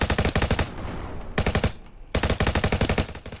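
Gunfire in a Roblox copy of Call of Duty: rapid automatic bursts crackle sharply and loudly in three clusters, broken by a brief quieter pause.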